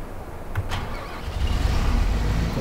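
A combine harvester engine starts up in the video game Farming Simulator 2015. It begins with a low idle, then a clicking ignition, then swells into a steady, louder rumble that runs on to the end.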